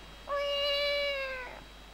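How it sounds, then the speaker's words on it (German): A single drawn-out cat meow from The Legend of Zelda: The Wind Waker, clear and close, rising and then tapering off over about a second with nothing else around it. "Mein Gott, das ist aber eine störrische Katze."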